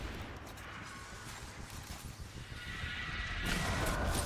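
Rapid, sustained assault rifle fire in the video game Destiny, a dense continuous crackle of shots holding steady across the clip and swelling slightly louder near the end, with no talk over it.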